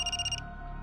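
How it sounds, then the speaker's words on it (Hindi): A telephone rings in a TV drama scene: a bright electronic ringtone pulses in quick repeated bursts for the first half, then cuts off, leaving a low hum. "पाटणकर बाई का फोन है।"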